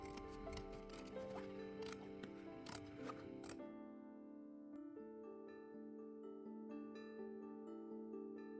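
Scissors snip through corset fabric seams, a quick series of crisp metallic cuts in steady rhythm, close and clear, followed by quieter sparse clicks over a faint musical background.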